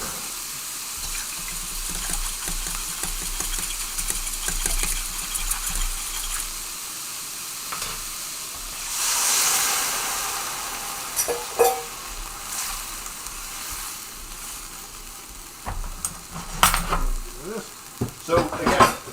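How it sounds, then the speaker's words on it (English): Cornstarch sauce being stirred into sizzling ginger beef in a pan, a soft frying hiss running throughout with scraping stir strokes and a louder burst of sizzle midway. "So just make sure before it goes in that you give it a good stir."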